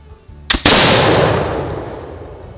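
A smoothbore muzzleloader loaded with shot goes off after a hang fire: a short crack from the primer, then a brief pause before the main blast booms loudly and decays in a long echoing tail outdoors.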